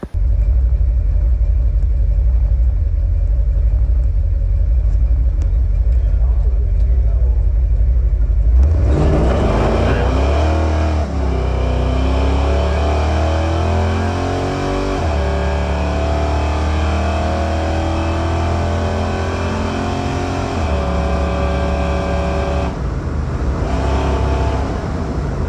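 A big-block Chevelle El Camino on a drag strip, a loud steady engine rumble that suddenly swells into hard acceleration, revs climbing and dropping through several gear changes, heard close and continuous with no talk.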